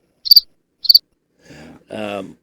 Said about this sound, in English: the Crickets decided to show up to work today